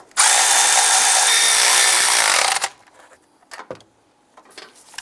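A power tool snugs down alternator mounting bolts on a 2002–2008 Dodge Ram 1500 with one loud, steady whirring run of about two and a half seconds, then stops, leaving faint clinks and handling noises.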